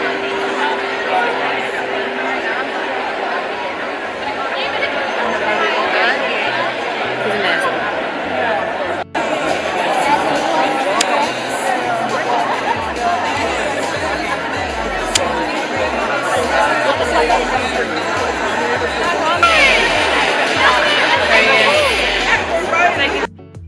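Large crowd milling and chattering at a film festival, a continuous loud wash of overlapping voices with occasional nearer speech and low rumbling beneath.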